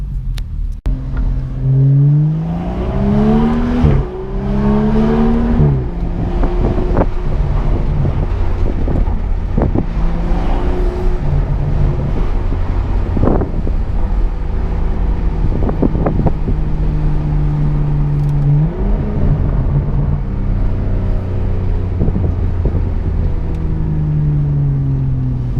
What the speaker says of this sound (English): I'll get a little bit of sound clips on the way so that you guys can get an idea of how the car sounds